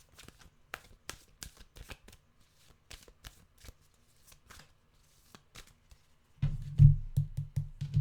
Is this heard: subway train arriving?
no